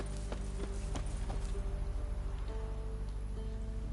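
Roach the horse trots in The Witcher 3, with a steady clip-clop of hooves repeating close by over a constant low game ambience and background music tones.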